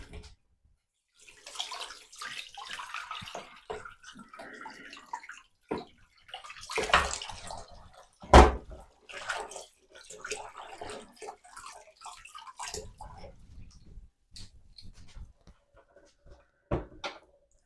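Water splashing and running while a Pinter 3 brewing vessel is drained and rinsed, with irregular gushes, clunks of plastic handling and one sharp knock, fairly close.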